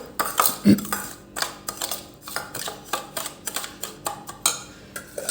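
A spoon stirs carrot pickle mixture with turmeric in a metal pot, giving a string of close, sharp clinks and scrapes in an uneven rhythm, with a voice speaking in places.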